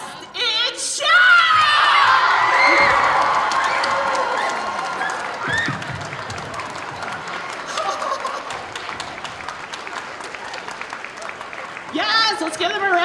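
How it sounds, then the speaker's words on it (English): Audience at a Zenkaikon 2022 cosplay awards ceremony breaks into loud applause and cheering for a Best in Show win, swelling early then tapering to steady clapping, with voices shouting over it and a host speaking near the end. "let's give them a round of applause."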